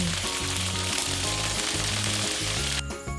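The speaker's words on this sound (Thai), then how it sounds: "เอาคากิลงไปทอดเลยค่ะ" Loud, steady sizzling of pork knuckle frying skin-down in a pan, a dense continuous crackle that briefly shifts near the end.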